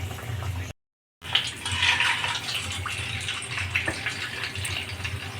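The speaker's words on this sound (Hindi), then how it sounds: "कचौड़ी हमारा तला गया है, इसको निकाल लेते हैं और डाल देंगे उसमें तेल में।" Kachori sizzles while frying in hot oil, a steady, close hiss of bubbling oil broken by a brief dropout and a splash as food goes in.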